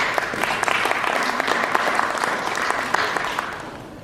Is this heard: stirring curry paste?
no